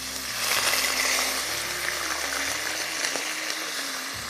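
Water pours into a hot pan of cooking food, bursting into a loud sizzling hiss that settles into steady bubbling frying, close and continuous.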